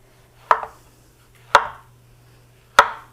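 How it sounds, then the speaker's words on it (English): A knife cuts through a peeled plantain on a board in three crisp, evenly spaced chops, close and clear against a quiet kitchen hum. "So the plantain is peeled. We're gonna cut in a diagonal."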